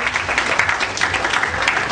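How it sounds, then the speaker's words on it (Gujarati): An audience claps steadily and continuously at a ceremony honoring students who passed a Microsoft online exam, with the applause sustained without a break. "મિત્રો જોરદાર તાળીઓ વગાડશો"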